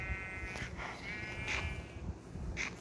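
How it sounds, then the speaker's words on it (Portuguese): Sheep bleating in a Minecraft-like video game, several short wavering bleats spaced a second or so apart over a low steady background. "Espanquei a ovelha."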